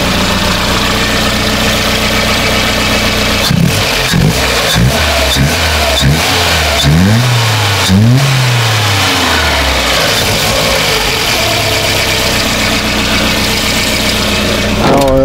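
A Volvo car engine, idle being adjusted by hand at the throttle, holds a loud rough idle and then is revved repeatedly in quick bursts, rising and falling, before settling back to idle.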